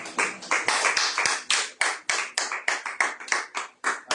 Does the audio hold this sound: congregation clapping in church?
yes